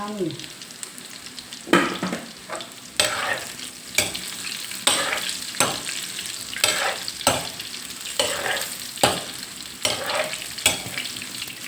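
Thai fish cakes made from mackerel fry in hot oil, a constant crackling sizzle broken by regular bursts of stirring and turning scrapes about once a second, close and fairly loud.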